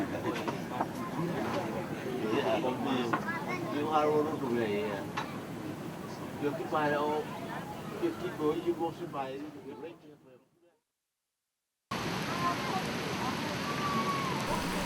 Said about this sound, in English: The next day the rain continues.